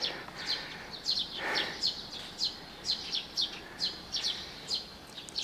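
Birds chirp in the early morning in quick, repeated high tweets at a moderate distance, a regular series of short calls over a quiet background.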